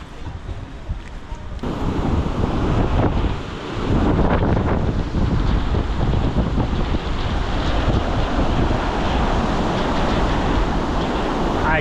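Loud roaring waterfall in Yosemite National Park, heard close in the spray with heavy wind buffeting on the microphone and a brief dip partway through.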